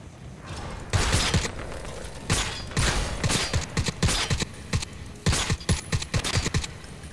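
Bursts of automatic gunfire from a weapon in Crysis 3, loud rapid volleys repeated in several strings with short pauses, close and dominant.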